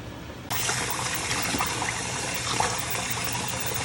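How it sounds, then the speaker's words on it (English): Rice being washed under a running tap, water suddenly turning on and gushing steadily into the pot, close and fairly loud, with faint splashing. "Always wash your rice before you add it."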